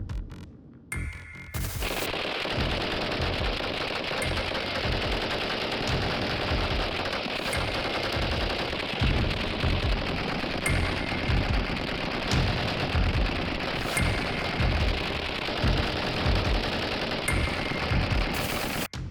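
Sustained machine gun fire in combat, loud and incessant with dense overlapping bursts and rattling volleys continuing almost without pause, with no voices.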